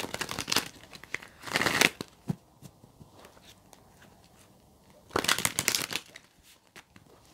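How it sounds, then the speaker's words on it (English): A deck of tarot cards is shuffled in three quick bursts of crisp riffling and slapping, close and fairly quiet, with a few soft taps and near silence between the bursts and no talking. "Let's get your tarot cards out and then I will read those messages from the book for you"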